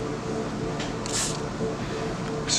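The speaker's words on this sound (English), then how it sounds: "we're going to go ahead and give it a spray." A spray bottle of 70% alcohol is pumped close by in a few short, hissy bursts, with a steady low background hum between the sprays.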